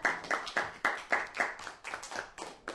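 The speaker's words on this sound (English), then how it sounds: "A wee round of applause," A small group claps together in an outdoor setting in Portballintrae, a short burst of about a dozen distinct, fairly even hand claps at close range with no voices.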